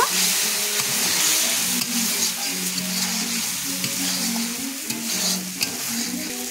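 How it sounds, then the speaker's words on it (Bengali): Spice paste frying for a Bengali shukto, stirred in a pan, a continuous close sizzle with soft scraping strokes and occasional light taps, steady and fairly loud throughout. "এটা দিয়ে ভালো করে আমি মশলাটা নাড়াচাড়া করে নেব"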